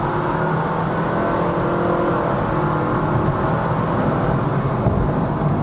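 A 1.5-litre i-VTEC engine in a JDM Honda Shuttle wagon drones steadily under light throttle with no gearshift. The hum stays loud and even inside the cabin throughout.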